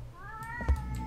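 A cat meows in the horror video game Erie, a single short, fairly close call with a rising then level tone over a low background hum.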